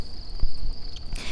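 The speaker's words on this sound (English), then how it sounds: "Can you hear like little crickets in the background?" Little crickets chirp in the background, a thin, high, continuous trill at low level with a few soft bumps and rustles close by.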